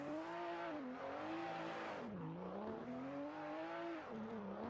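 A BMW E92 race car circles the Sochi Autodrom, its engine holding a loud, steady note close by, rising and falling as it shifts through revs with a brief dip near the end.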